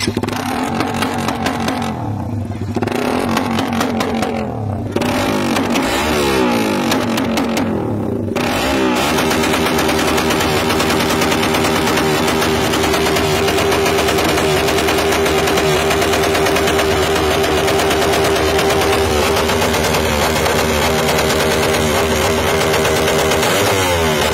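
A Raider 150 Fi motorcycle with a Malaysian-concept setup revs at full throttle, loud and close, with crackling bursts early on before settling into a sustained, high, buzzing wail.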